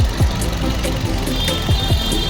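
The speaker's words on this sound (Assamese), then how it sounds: "একদম টিপটপ কণ্ডিশ্যনত আছে ইঞ্জিনটো। চাউণ্ডটো একদম ধুনীয়া হৈছে, মিচিং নাই, ভাইব্ৰেশ্যন নাই।" A 2020 Maruti Dzire engine idles steadily nearby, a smooth low hum with a few soft mechanical knocks on top and no speech.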